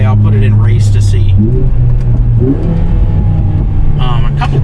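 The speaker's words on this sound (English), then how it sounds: "A couple pops and bangs out the back there." A 2022 Mercedes-AMG GLA45 in race mode revs hard from close range, its exhaust letting out a couple of sharp pops and bangs over the steady engine drone.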